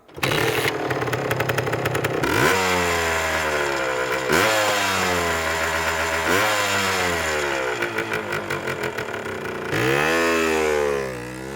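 A motorcycle engine revs up again and again, each rising whine climbing in pitch before dropping back, loud and close.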